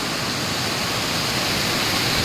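Loud, steady rush of a rising river, a dense broadband roar of swollen water, with no voices or breaks.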